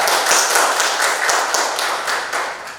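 A class claps hands together in a lively, fairly close burst of quick, uneven claps that carries on steadily and tapers slightly toward the end.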